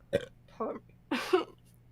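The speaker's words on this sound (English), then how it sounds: "I'm burping now because I had fizzy drink" A person burps several times after drinking a fizzy drink, three short throaty eructations spaced about half a second apart, close and moderately quiet against a faint steady hum.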